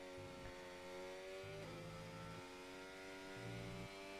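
A race car in a racing sim slides under wheelspin, its engine a steady mid-pitched whine with stepped rev changes and a brief dip midway, held close and continuous throughout.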